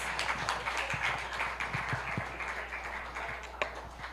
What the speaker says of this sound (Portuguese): Receba o servo do Senhor aplaudindo ao nome de Jesus.